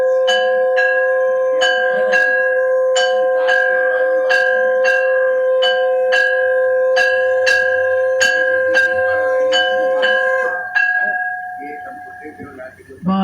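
During a Shrimad Bhagavat religious discourse, a conch shell is blown in one long, steady, droning tone while bells ring in a regular beat over it, loud and near. The tone fades out near the end.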